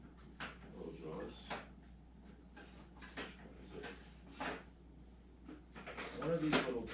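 Small drawers are pulled open and rummaged through in a garage workspace during an oil change on Taotao 125cc ATVs; repeated soft wooden or plastic slides and clatters, fairly faint, with someone muttering between them.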